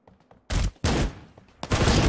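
Sharp, heavy shotgun blasts in the video game Ring of Elysium, three loud booming shots in quick succession after a few faint clicks.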